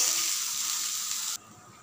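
Rice frying and being stirred in a pan for fried rice, a steady close sizzle with hissing steam that cuts off abruptly near the end.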